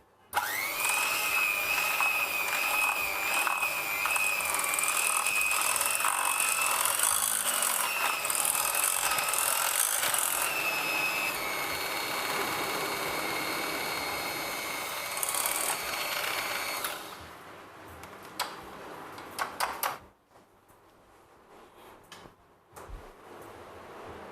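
An electric whisk beats lemon cake batter of flour, melted butter and a pinch of salt, a loud steady whirring whine that runs unbroken for about seventeen seconds, then cuts off, leaving scattered clicks and handling knocks.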